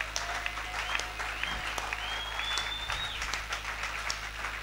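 A church congregation at a Sunday service breaks into steady, sustained applause, a dense wash of clapping filling the room at even loudness for several seconds, with a faint whistle-like tone gliding above it.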